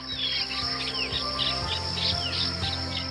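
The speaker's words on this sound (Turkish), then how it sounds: "Sabahleyin mesela saat 6'da kalktığınızda kuş cıvıltıları." Birds chirp and tweet repeatedly in the early morning in a neighbourhood in Giresun, Turkey, with short bright calls over a steady low hum, moderately close and continuous throughout.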